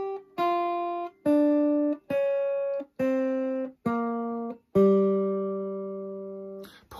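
A jazz guitar plays the G blues scale in descending order, seven separate clean notes. The last one rings out longest and fades slowly. The notes are close and unaccompanied.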